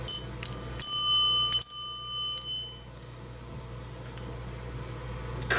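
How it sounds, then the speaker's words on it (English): An elevator bell, freshly unboxed, is struck a few times in quick succession, giving bright ringing tones that fade over about two seconds before a quiet room hiss remains. "Cool, another elevator bell."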